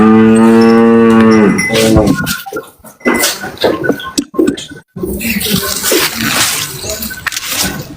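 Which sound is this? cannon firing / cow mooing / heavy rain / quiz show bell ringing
cow mooing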